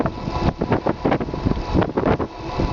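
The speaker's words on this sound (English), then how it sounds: "there's quite a bit of headwind" Headwind buffets the microphone while riding a 72V 3000W Cyclone serial-hybrid electric bike, making loud, gusty rumbling roar in uneven bursts with no talking.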